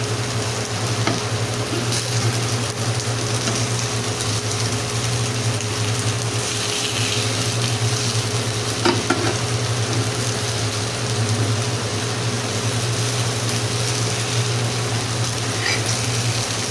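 Eggplant slices frying in a pan as they are turned one by one, giving a steady, close sizzle over a low hum, with a few faint clinks from the flipping.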